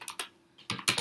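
Quick keystrokes on a computer keyboard while coding in Xcode, a few crisp clicks in two short clusters separated by a brief pause, close and clear with no talk.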